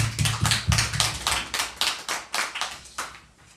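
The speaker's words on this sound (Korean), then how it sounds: "하나님께 감사의 박수를 올려드립니다." A church congregation claps together in thanks to God during a Sunday worship service, a steady run of about a dozen loud, crisp unison claps with no talking.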